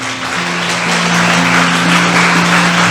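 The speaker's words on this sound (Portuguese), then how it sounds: "Dê um aplauso ao Senhor." A church congregation applauding during a Portuguese-language service: a loud, rising wash of many hands clapping together, with sustained low musical tones humming steadily underneath.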